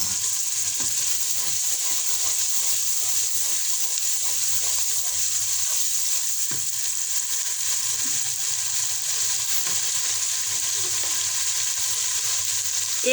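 Chicken with spinach, crushed red chilli and spices frying in a pan, a steady close sizzle with occasional scraping stirs, no talk.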